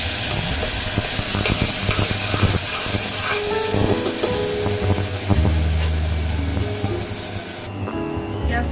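Onion and tomato paste sizzling and frying in a pan after a tempering of dried red chillies, for chicken kosha, with steady sizzle and occasional stirring scrapes, close and alone.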